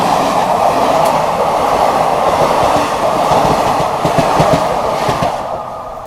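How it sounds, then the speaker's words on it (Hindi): A special train passes close alongside on the adjacent track, heard from aboard the New Delhi–Prayagraj Humsafar Express: a loud, steady rush of rolling wagons with faint clickety-clack of wheels, continuous throughout and easing slightly at the end. "ये देखो बगल से क्रॉसिंग हो रही है किसी स्पेशल ट्रेन की।"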